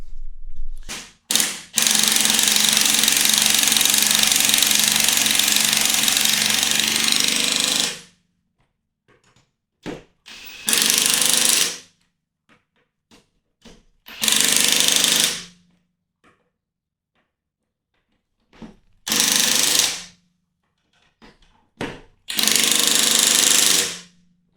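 Masterforce 1/2-inch impact wrench tightening wheel lug nuts, a long loud hammering burst followed by several shorter rattling bursts with quiet gaps between them, close by.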